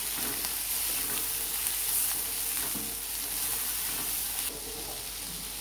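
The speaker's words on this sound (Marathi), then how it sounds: "आता आपला कांदा फ्राय होत आलेला आहे. त्याच्यामध्ये आपण टोमॅटो टाकून घेऊया." Chopped onion and tomato frying in a pan for a matar paneer masala, a steady close sizzle with soft stirring scrapes and no talk.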